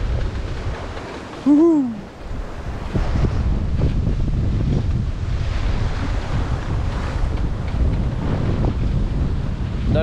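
A 41-foot sailboat surfs down big Atlantic swells under steady roaring wind and rushing water, with one brief cheering shout near the start.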